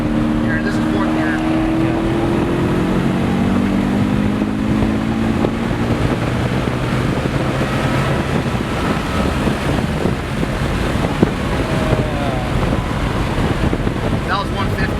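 Twin-turbo BMW M3 with a built S65 engine on E85 and methanol accelerates hard in fourth gear, a rising engine drone climbing steadily in pitch beneath heavy wind buffeting.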